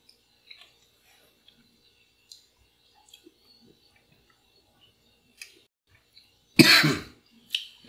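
A single sharp cough bursts out near the end, followed by a shorter second cough, after several seconds of quiet with faint clicks and small handling noises.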